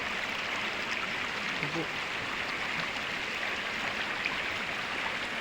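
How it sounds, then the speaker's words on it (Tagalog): Strong river current rushing steadily as a broad, constant wash close by, with someone speaking briefly over it. "agos ng tubig kasi napakalakas ang tubig nito"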